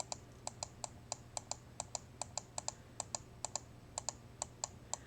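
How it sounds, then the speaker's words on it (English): Computer mouse clicking during hand tracing of a design, pulling anchor points: a fast, steady run of crisp, close clicks over a low electrical hum, with no voices. "You can kind of hear my mouse clicking."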